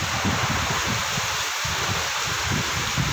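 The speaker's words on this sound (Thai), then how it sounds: "ลมแรงมาก" Very strong wind in a rainstorm in Suwannaphum, Roi Et, Thailand, a loud continuous roar with gusty low rumbling buffeting the microphone throughout.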